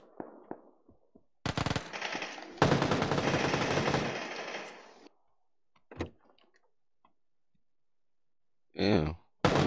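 Loud gunfire in PUBG comes in two dense machine-gun bursts close together, followed by sparse single shots and a final sharp burst after a quiet gap.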